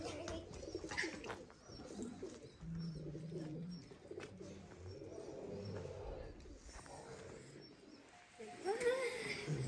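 Pigeons coo from a household coop belonging to a Hmong family on the frosty Dong Van stone plateau in Ha Giang, low soft calls running steadily beneath people talking nearby.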